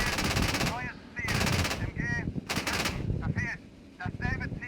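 Bursts of machine-gun fire from a Marder A1 infantry fighting vehicle in a PC tank video game, three or four rapid rattling volleys separated by short pauses, loud and close.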